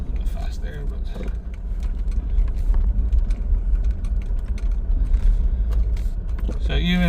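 A 2007 KIA Sorento 2.5 CRDI diesel engine is held at full throttle and accelerates slowly with a steady, loud, droning rumble through the cabin for several seconds. Light rattles sound over it, and a voice comes in near the end.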